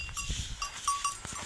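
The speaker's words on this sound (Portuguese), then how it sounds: "Os bodes estão aqui comendo o juazeiro." Goats feed on freshly cut joá branches outdoors, with soft crunching and rustling of leaves, scattered clicks and a faint bell-like tinkle nearby.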